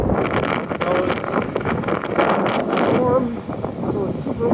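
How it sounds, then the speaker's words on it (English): Strong wind buffeting a phone microphone outdoors, producing loud, gusty low rumbles and rustling that rise and fall throughout while a person speaks over it. "So it's super windy, and I'm trying not to get blown away."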